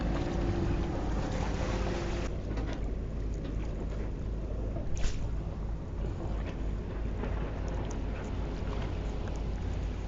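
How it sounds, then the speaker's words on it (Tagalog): A passing boat's engine drones steadily at sea under blustery wind noise, a constant low rumble. "Uy, may bangka guys."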